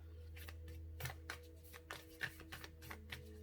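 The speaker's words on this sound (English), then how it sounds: "Let's shuffle some more cards." Tarot cards shuffled by hand in a quiet room, giving a run of soft, papery riffling and slapping bursts at an irregular rhythm, close and fairly quiet, with no talking.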